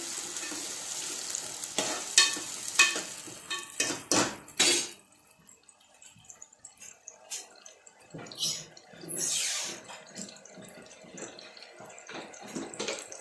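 Paste going into a frying potato-and-pea curry gravy with tomatoes, stirred in a pan, giving soft sizzling and scraping, busy with clatter for the first five seconds and then quieter stirring with occasional bursts.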